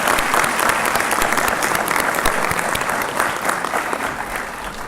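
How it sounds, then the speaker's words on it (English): A large audience at a college fall commencement ceremony applauds the professors and teachers, a steady, dense wash of clapping that holds loud and even throughout. "Let's give them a round of applause."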